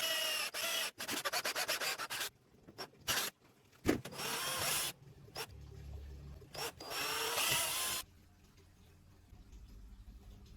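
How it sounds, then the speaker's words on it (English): A power drill bores two holes in a PVC frame meant for a pulley and a motor, giving short, separate bursts of whirring and grinding with quiet gaps between them. "Now let's drill two precise holes, one for mounting the pulley and one for the motor."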